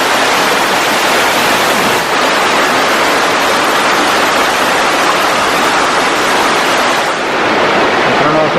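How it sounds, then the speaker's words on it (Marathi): A forest waterfall roars in a steady, dense wash of falling water, loud and close, with an even rush that barely shifts throughout. "सुंदर असा धबधबा दिसतोय आपल्याला"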